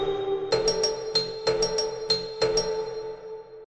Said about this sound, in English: I have some more bells from Orianna. It's the same sample, just much lighter.